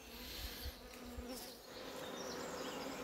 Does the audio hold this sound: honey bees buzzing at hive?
yes